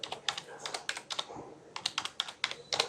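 Someone types a search on a computer keyboard, rapid close clicks in quick bursts with a short pause midway, no talking over it.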